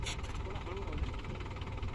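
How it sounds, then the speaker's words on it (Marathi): A tractor engine runs steadily while pulling a BBF broad-bed planter sowing seed and fertilizer through five tines in a field, a continuous low drone under a man's speech. "बीबीएफची पेरणी प्रत्यक्ष ट्रॅक्टरद्वारे कशी करीत आहोत आपण"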